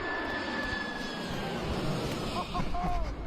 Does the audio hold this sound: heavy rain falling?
no